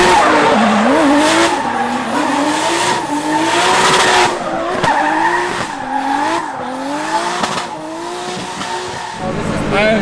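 A car drifts around a backyard racetrack with a loud, continuous revving engine whose pitch rises and falls, mixed with squealing tires sliding close by.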